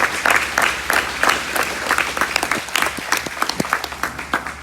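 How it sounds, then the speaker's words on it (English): Audience applause at a military retirement ceremony for a sergeant major, a crowd clapping with distinct sharp claps in an irregular rhythm, fairly close and loud throughout with no talk. "Let's give Sergeant Major Jimmy Thomas a round of applause."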